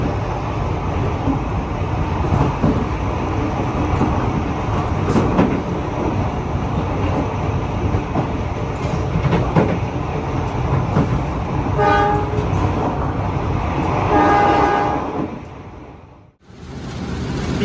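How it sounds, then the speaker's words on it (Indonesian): Train locomotive running, heard from right behind it on board: a loud, continuous rumble and rattle with clicking wheels and a brief tonal squeal, fading out near the end. "Ini ASMR, kita berdiri di belakang lokomotif pas."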